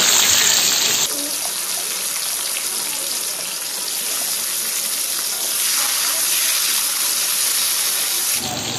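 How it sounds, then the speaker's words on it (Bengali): Onions and red capsicum fry in a hot pan, giving a steady loud sizzle that holds for several seconds, heard close with no talk over it. "এখন আমি এগুলোকে ভেজে নেব হালকা করে ভেজে আমি তুলে নেব"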